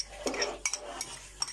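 Spoon stirring cucumbers and rice together in a salad bowl for a festive salad: a series of close clinks and scrapes against the dish, irregular and moderately loud.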